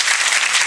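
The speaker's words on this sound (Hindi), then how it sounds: "ताली बजाओ" Students in a coaching class clap for a classmate who was selected for Agniveer, producing loud, dense applause that stays constant from start to finish with no voices over it.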